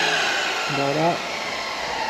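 Compressed air blasts through a hydraulic hose from an IH Dresser TD20E dozer, a steady loud hiss running throughout while a voice briefly speaks over it.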